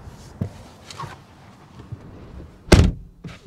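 Car door of a 2021 BMW M440i closing heard from inside the cabin, one heavy muffled thunk preceded by faint handling clicks and rustles, with a softer click afterward.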